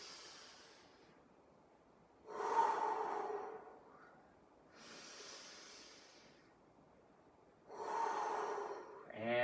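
Slow, deep breaths during a hip and knee stretch against a wall, four long airy inhales and exhales spaced evenly and heard up close, with no talking.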